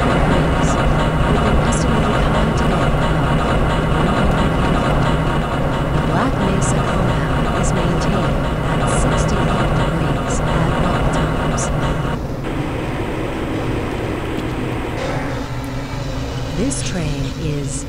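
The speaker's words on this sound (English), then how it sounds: "This train is inbound from the Area 8 topside dormitories to the central transit hub in Area 9" A tram ride through the Black Mesa Research Facility in the video game Half-Life: Blue Shift: a steady loud rumbling hum of the moving train with intermittent clanks, an announcer's voice speaking over it.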